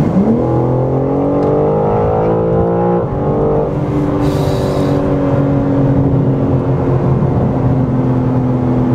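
A 2021 BMW M4 Competition G82 with about 500 horsepower accelerates hard, its engine note rising through several gears with brief dips at the shifts, loud and close from inside the car with no talking.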